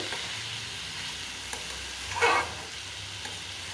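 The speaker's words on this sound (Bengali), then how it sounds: "এখন আমি এই আলুগুলো এখানে এড করে দিলাম দিয়ে আর একটু ভাজা ভাজা করে নেব" Potatoes frying in a pan for a squash curry give a faint, steady sizzle, with a brief louder stir of the pan near the middle.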